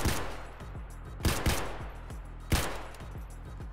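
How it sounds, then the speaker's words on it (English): Gunfire from the video game DayZ comes in several loud, close bursts of rapid shots, with sharp cracks around each burst and echoing decay between them. "I'm gonna have to shoot this out, Ben, hang on."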